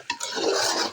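A spatula scrapes and stirs pepper chicken seasoned with fennel powder and curry leaves in a pan, one brief continuous sweep close by with no voices.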